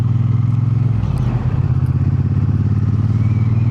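A Triumph T120 Bonneville motorcycle being ridden on a late-winter day, its engine a steady close rumble with a brief dip and recovery in pitch, mixed with wind noise and no talking.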